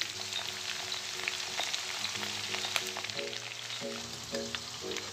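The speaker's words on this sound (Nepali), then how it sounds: "रातो रातो ब्राउन बनाउने चाउलाई फ्राई गर्ने चाहिँ यसो" Rice fries in a pan until reddish brown, giving a constant soft sizzle with light crackles beneath sustained tonal background notes.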